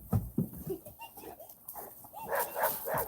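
Preacher, a Cane Corso puppy-like dog, lets out a few loud close barks and yips at the start, then whimpering, excited vocalizing follows amid indoor kitchen bustle.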